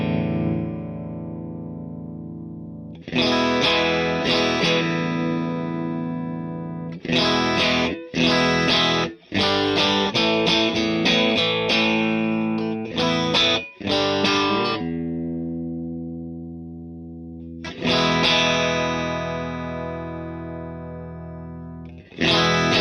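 An electric guitar with delay plays through a Mesa amplifier: loud, distorted sustained notes and quick picked phrases, each trailing echoing repeats, in bursts separated by brief pauses.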